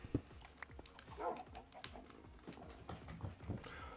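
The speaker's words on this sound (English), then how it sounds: "These damn dogs." Minecraft dogs yip, whimper and bark in a scattered series of short, quiet calls, some overlapping, set against a soft game background.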